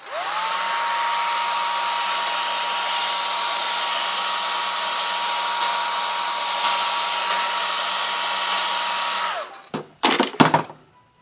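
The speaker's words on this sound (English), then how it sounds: "Let me get my dryer again." A hair dryer blows steadily and loudly for about nine seconds over an alcohol ink painting with a faint whine, then cuts off, followed by a few brief clattering handling sounds.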